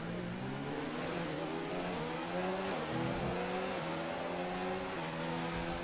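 Formula 1 race car engine in a racing game, slipstreaming down the back straight of the Canada circuit, sounds as a loud, sustained high-pitched whine with shifting tones and brief dips.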